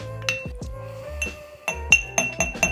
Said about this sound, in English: And I muddle everything in the glass.